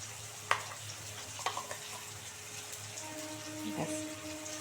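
Ginger-garlic paste with green chilli and spice masala sautéed in a pan, a faint low sizzle with a few light stirring clicks, quiet and close with no speech.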